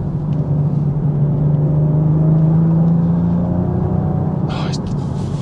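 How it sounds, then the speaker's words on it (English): A BMW M440i engine hums steadily with a rising, straining drone as it pulls hard through sweeping bends, heard from inside the cabin, with a brief higher whoosh near the end. "Oh, that engine is mighty."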